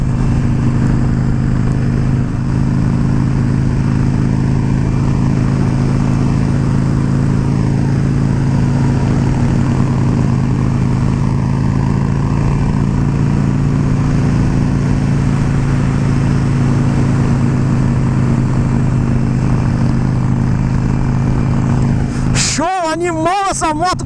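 A Harley-Davidson Sportster Iron 883 motorcycle being ridden, its engine holding a steady low rumble mixed with wind rush throughout, with a brief louder burst at the very end.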